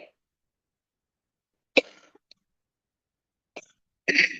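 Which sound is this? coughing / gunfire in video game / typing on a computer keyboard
coughing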